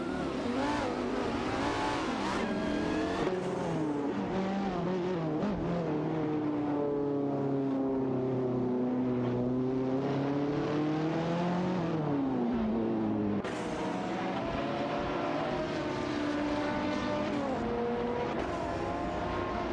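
Engines of a McLaren 675 LT and a Radical RXC in a racing game rev and shift continuously, loud and close, the pitch climbing and falling through the gears for twenty seconds.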